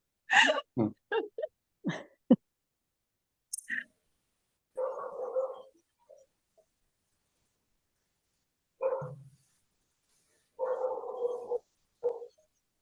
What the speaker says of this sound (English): Where's the dog barking?